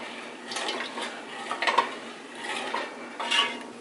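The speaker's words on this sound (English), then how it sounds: "I'm just stirring it around." Soup being stirred in a pot ahead of blending with an immersion blender, giving a few soft scraping, clinking strokes of a utensil against the pot at a quiet, close level with no talking.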